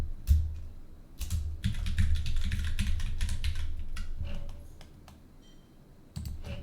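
Rapid keystrokes on a computer keyboard as a password is entered, a close, busy burst of clicking that thins out and pauses before a few final taps, with no talking.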